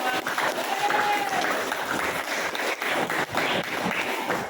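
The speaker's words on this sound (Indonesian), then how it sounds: "Oke, tepuk tangan untuk kita semua." Applause in a classroom full of students during a scout-themed school lesson, a busy mass of clapping with cheering and chatter mixed in, holding steady for several seconds.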